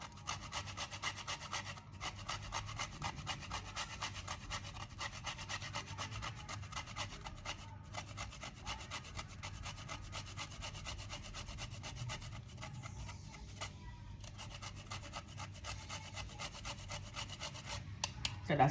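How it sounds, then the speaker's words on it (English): Whole nutmeg grated into a hot caramel cornmeal pudding mixture, a steady, fine rasping scrape repeated in quick strokes, quiet but close and continuous, with no voices. "we're going to go ahead and grate all the nutmeg inside the mixture"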